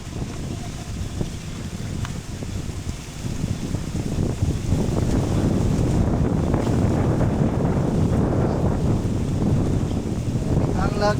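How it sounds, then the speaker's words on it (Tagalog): Strong wind blowing through heavy rain, a dense roaring rush that swells louder after a few seconds and stays loud, with a faint indistinct voice underneath. "Ang lakas ng hangin."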